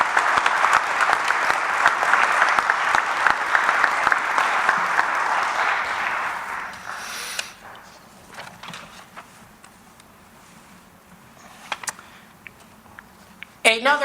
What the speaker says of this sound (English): How about a round of applause for the graduates